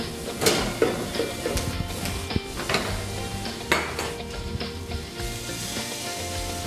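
Butter sizzles and bubbles in a pot as a butter sauce is made for grilled chicken and peppers, with metal utensils clinking and scraping against the sides at intervals.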